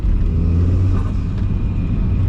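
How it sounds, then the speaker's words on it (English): A VW MK3 with a swapped 1.8T engine and an unfiltered intake rumbles loudly nearby, a deep steady engine drone with faint airy fluttering from the turbo and blow-off valve. "I'm hearing more of like turbo flutter out of the intake because I don't have a filter on it"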